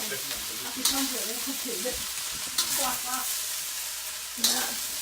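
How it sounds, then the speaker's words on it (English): Cabbage and ginger stir-frying in oil for Chinese fried rice, a steady close sizzle with a few sharp spatula knocks, while a voice talks quietly over the cooking noise. "Just put the oil first, then put the cabbage and ginger and stir fry."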